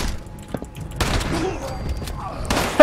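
Gunfire in Fallout 76 comes as a few sharp, mid-distance shots and thuds over game ambience, with players talking.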